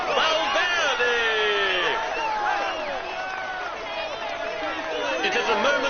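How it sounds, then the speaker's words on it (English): A large roadside crowd at a Tour de France stage cheers, whoops and shouts steadily for a passing cyclist, with commentators speaking loudly over the noise. "Come on, let's applaud him once more."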